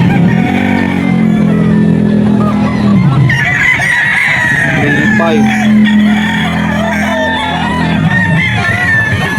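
A young stag rooster at a pet market crows and clucks loudly and close, with other fowl calls and crowd noise behind.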